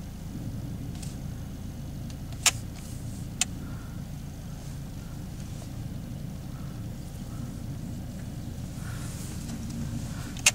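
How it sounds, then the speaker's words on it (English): BMW car driving on the road during ABS sensor diagnosis, a steady low engine and road rumble heard from inside the cabin, with a couple of sharp clicks, no talk. "take it for a little bit of a drive, put the speed up"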